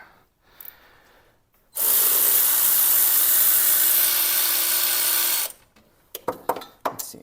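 Air-powered impact tool spinning off the last bolt on the inner driver of a 1993 Saab 900 in a home workshop: one sustained loud whirring burst of about four seconds, then short clanks and rattles of the tool and parts.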